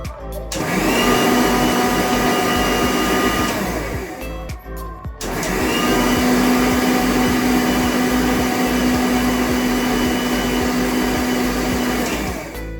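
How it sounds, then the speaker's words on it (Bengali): A kitchen mixer grinder blending green chilli, salt, black and white mustard seeds, poppy seeds and a little water into a paste: a loud, close motor whine that runs, stops briefly, then starts again and runs steadily. "কাঁচা লঙ্কা, নুন, কালো সর্ষে, সাদা সর্ষে আর পোস্তটা আমি একটু জল দিয়ে মিক্সিতে পেস্ট করে নেব"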